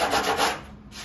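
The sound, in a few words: sanding the edge of an epoxy windsurf board nose repair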